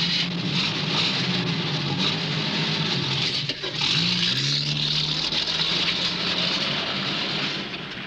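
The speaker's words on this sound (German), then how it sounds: "Es war ein Auto. So hört sich ein Auto an." A car engine drives by in a continuous broad rushing roar, swelling and fading with a brief tonal shift midway, loud and near with no voices.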